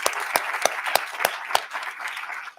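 An audience at an academic research symposium applauding, a steady crowd of clapping with several loud, regularly spaced close claps standing out, slowly thinning toward the end.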